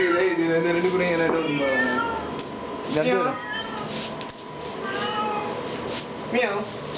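A cat meows several times at close range during play, with drawn-out, wavering cries, while a person talks and imitates the meows alongside it.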